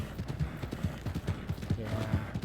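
Hooves of a black Morgan horse in Red Dead Redemption 2 clip-clop in a quick, steady rhythm close by, with faint voice sounds in the background.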